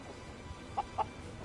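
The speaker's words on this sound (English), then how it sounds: "We have 10 chickens here." Two quick, soft clucks from chickens in the survival game Surviving the Aftermath, spaced about a fifth of a second apart over a faint steady ambient background.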